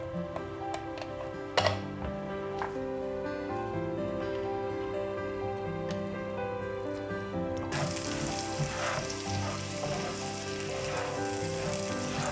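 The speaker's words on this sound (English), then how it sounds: "We'll start cooking the sambal sauce." Oil sizzles steadily in a pan as sambal sauce for nasi lemak cooks in the oil earlier used to fry anchovies, with music playing underneath and the frying growing brighter and louder partway through.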